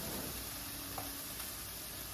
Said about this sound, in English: So I'm just going to saute these until they're wilted down.